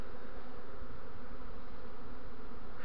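A swarm of honeybees with young queens buzzes inside a hollow in a linden tree. The drone is dense and steady, continuous and close throughout, with no voices.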